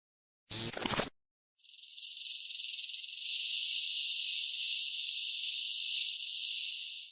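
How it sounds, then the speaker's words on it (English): A rattlesnake shakes its tail in warning, a continuous high, dry buzzing rattle that starts after a short sharp noise and holds steady and fairly loud for several seconds. "This is a really cool video where a rattlesnake performs tail-end percussion."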